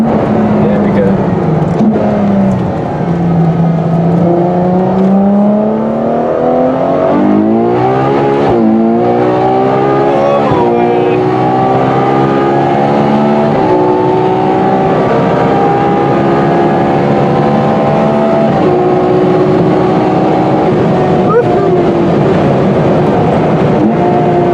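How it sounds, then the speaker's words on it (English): A Ferrari F12 TDF supercar accelerating hard from inside the cabin, its engine note loud and close, sweeping up through the revs over repeated gear changes, with occasional voices beneath the roar. "number 4 is the Ferrari F12 TDF."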